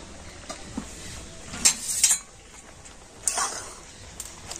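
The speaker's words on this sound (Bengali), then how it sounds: "আর এবার আমি ঢাকা খুলে দেখে নেব বাঁধাকপিটা সিদ্ধ হলো কিনা।" A metal lid clanks and scrapes as it is lifted off a pot of boiling cabbage, producing two sharp bright clatters close by over a faint bubbling, simmering background.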